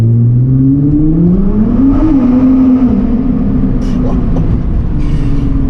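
A Nissan GT-R Nismo engine revs and pulls hard from inside the car, its loud droning tone rising steadily and then leveling off, with faint clicks and rattles over the roar.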